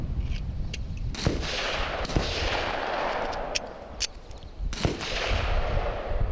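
Pistol shots at a 3-gun competition outdoors: several sharp, loud cracks spaced irregularly over steady wind-like noise and shuffling, with a couple of closely spaced pairs near the end.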